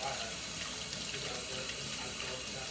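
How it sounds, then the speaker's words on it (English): Water runs steadily from a kitchen tap as produce is rinsed under the stream, a continuous close hiss and splash without a break. "I'm just going to put some of these in under the water"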